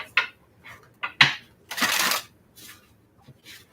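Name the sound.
tarot cards being shuffled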